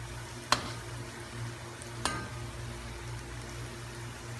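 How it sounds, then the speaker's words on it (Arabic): Luqaimat dough balls fry in hot oil with a steady, moderate sizzle and bubbling hiss, broken by a couple of sharp clinks of a utensil against the pan. "نقليهم على مرحلتين ونغطسهم بالزيت"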